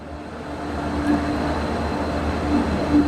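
The Chauri Chaura Express from Gorakhpur pulls into platform one at Kanpur Central station with a steady, dense rumble of rolling wheels and station noise, without talk.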